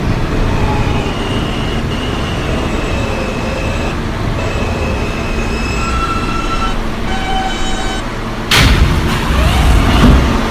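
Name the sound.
onboard R160A subway train running, R line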